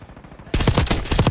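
Gunfire in the video game Call of Duty: a quiet moment, then sudden loud rapid automatic fire in close bursts.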